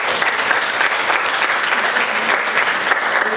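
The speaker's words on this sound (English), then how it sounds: "That deserves a big round of applause" Steady, dense audience applause at a youth celebration event, loud and continuous from start to finish with no pauses or voices on top.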